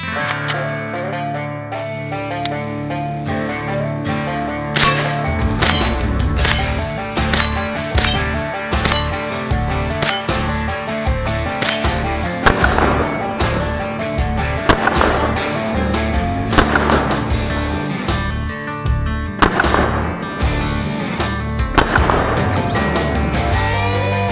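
A Henry Homesteader 9mm carbine empties a full magazine outdoors, its loud sharp shots cracking in a steady rapid string with ringing echoes between them.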